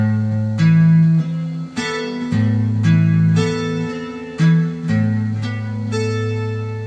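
A guitar plays the chord pattern, with sustained chords struck in a steady sequence that ring out loud and close, and no talking.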